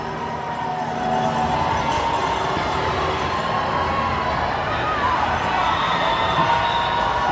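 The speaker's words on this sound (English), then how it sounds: "you can hear the excitement, the cheering as the runners are closer and closer to the finish line" A large street crowd cheers runners approaching the New York City Marathon finish line, a steady dense roar of voices and shouts that continues without a break.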